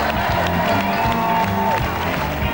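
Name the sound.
audience applause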